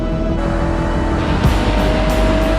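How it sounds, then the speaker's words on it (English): A 2020 Jaguar F-type sports car with a high-performance engine gives a loud, steady engine drone and a constant tonal hum, with a few faint sharp accents on top and no voices. "The new Jaguar F-type is available with a range of advanced high-performance engines."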